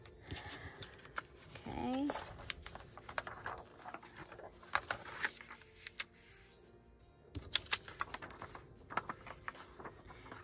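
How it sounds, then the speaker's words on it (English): Sheet of unusual textured paper folded along a line for a junk journal page: rustling, crinkling and soft tapping scrapes up close, with a brief spoken word partway through. "I am going to fold this on this line."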